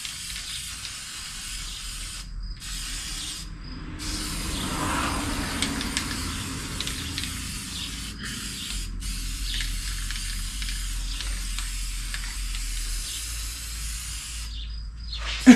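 Spray paint hisses from aerosol cans onto a set of car wheels in several bursts of varied length, separated by short pauses, fairly close and with no talk over it.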